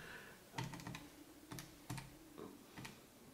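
Keypad buttons on an open-source F/Stop darkroom timer tapped in a quick, irregular series of about six soft, close clicks in a quiet room.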